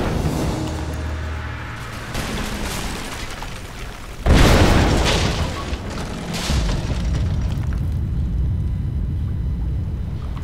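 A single loud, deep explosion booms out midway in Rise of the Tomb Raider, preceded by rumbling game noise and followed by a long fading roar.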